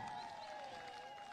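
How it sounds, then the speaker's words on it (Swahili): Audience applause for Ibaraki at a political gathering with MPs, a short, steady burst of crowd clapping filling the room. "Pigieni kwa Ibaraki makofi"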